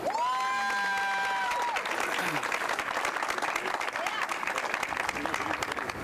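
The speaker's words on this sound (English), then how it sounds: "if we can just take a second and applaud that effort" Sustained applause and some cheering from a crowd at a mayor's news conference and bill signing, dense continuous clapping after a brief sung or held tone at the start, with voices mixed in.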